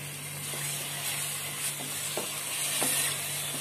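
Beef being stirred into masala in a hot pot for Hyderabadi beef dum biryani, a steady soft sizzle with a few scraping stir strokes, close and alone.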